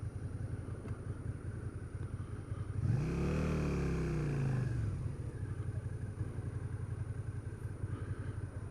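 A 2012 Suzuki SFV650 Gladius motorcycle is ridden on the road, its engine swelling in a rising then falling rev over a few seconds above steady low road rumble and wind.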